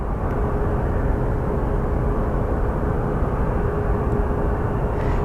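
An Airbus A319 or A320 airliner at Phoenix Sky Harbor airport produces a steady, broad engine roar with a faint whine, holding constant and fairly loud across the whole stretch without talk.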